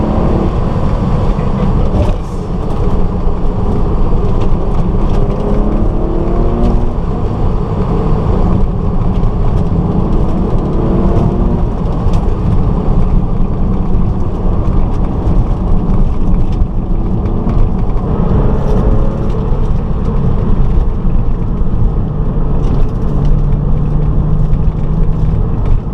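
A 1998 Porsche 996 drives along a narrow country lane, its engine a steady, loud drone with gear changes and shifting pitch running for the whole stretch, with rumbling road noise beneath and no talking.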